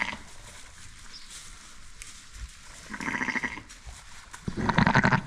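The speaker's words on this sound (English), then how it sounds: "this ewe is trying to steal the lamb, which we do not want" A Clun Forest ewe at lambing time gives several close, loud bleats that grow stronger toward the end, over faint farmyard background noise.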